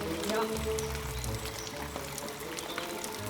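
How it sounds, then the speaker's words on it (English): A water jet sprays steadily at a spa, a continuous close hiss and splash under voices throughout. "so now I'm going to give you the water, the hosing down"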